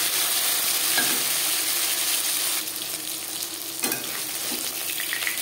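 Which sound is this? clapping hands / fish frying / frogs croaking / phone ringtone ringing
fish frying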